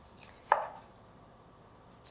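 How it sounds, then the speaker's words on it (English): Single sharp knife chop through a lemon onto a cutting board, close and crisp, followed by a faint second tap, with no talk. "you're just gonna make some even slices of two lemons"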